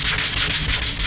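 A sanding block scraping back and forth over a rough painted surface, with a brief, loud, hissing rub in quick strokes.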